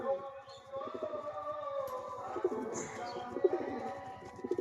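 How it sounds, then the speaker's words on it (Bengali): A pair of pigeons coo in soft, repeated low throaty phrases close by as one chases the other, with faint chirps and rustling in the background. "দেখুন কেমন তাড়া করছে পায়রা জোড়া"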